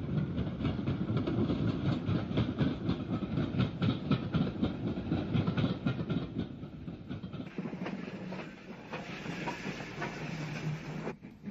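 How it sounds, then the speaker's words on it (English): A Southern Railway two-car electric multiple unit pulls into a station on a service from Seaford, its wheels clattering with a steady broadband rumble and hiss that fades a little as it slows near the end. "a two-bill electric unit arrives at the station on a service from Seaford."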